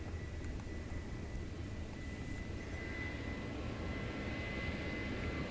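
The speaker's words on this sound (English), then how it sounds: "A330-300 operated by Air Hong Kong coming in on the east side of the airport." A DHL Airbus A330-300 cargo jet operated by Air Hong Kong lands on the east side of Seoul's Incheon Airport, a faint, distant engine roar holding steady throughout.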